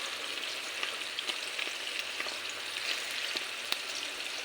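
Coconut milk is poured into a pot of mung beans and vegetables cooking on the stove. There is a steady, soft sizzle and bubbling with faint stirring clicks, and no talk.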